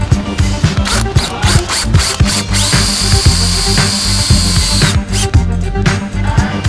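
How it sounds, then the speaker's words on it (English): A DeWalt power drill whirs in loud, repeated bursts, stopping and restarting in a choppy rhythm with brief pauses between runs, heard close and alone. "That's a man's drill."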